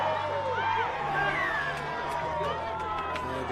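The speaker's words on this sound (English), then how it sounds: "You can hear the crowd getting into it now." Crowd noise swelling at a rugby league nines match, a steady broad roar of spectators running under a commentator's continuous voice throughout.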